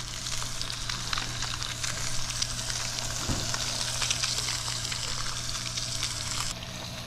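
Blackened redfish frying in a hot pan: a steady, even sizzle with fine crackling pops that continues throughout, close and moderately loud, with no talking.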